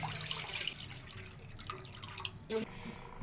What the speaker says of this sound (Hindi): सबसे पहले 1 लीटर पानी हम इसमें डाल रहे हैं उबालने के लिए